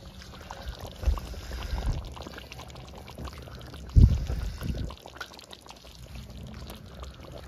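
Kewra water is poured into a dish of chicken chaap, making a soft, brief splash and trickle over quiet kitchen background, up close, with no talking.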